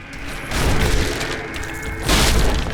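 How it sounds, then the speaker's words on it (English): Walls crash and crumble in the PC action game Diablo III, a loud, continuous rumble of smashing debris with a heavier burst near the end, no talk over it. "We gotta destroy these Gears of War chest-high walls."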